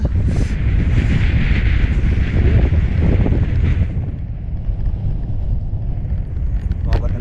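Strong wind buffets the microphone with a heavy, low rumbling roar that eases somewhat in the second half.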